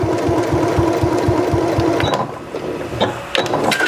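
A sewing machine back stitching near the end of a seam, its fast needle chatter running steadily for about two seconds before stopping, followed by a few faint clicks and handling noises.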